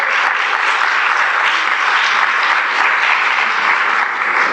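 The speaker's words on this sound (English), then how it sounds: "Give yourselves a big round of applause for coming out." Morning audience at a food tourism conference giving a sustained round of applause, a dense, even wash of many hands clapping throughout with no talk over it.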